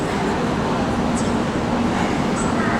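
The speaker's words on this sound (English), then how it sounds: "So the high speed train from Kunming to Dali." A steady rumbling rush of a Chinese high-speed train from Kunming to Dali passing nearby, a continuous broadband roar with faint high squeals.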